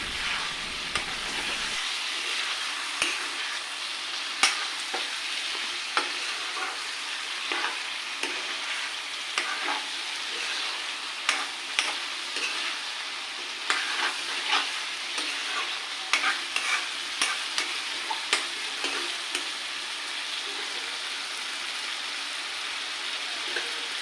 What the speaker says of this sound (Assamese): এয়া মই অকণমান ভাজি লোৱাৰ পিছত মই ইয়াতে অকণমান গৰম পানী দি লৈছোঁ